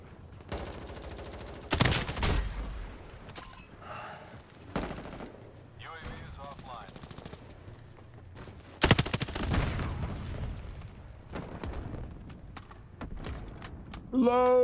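M4 rifle fire in Modern Warfare: several loud, sharp bursts of automatic gunfire separated by quieter stretches of mechanical handling and reload clicks, with brief talk in between.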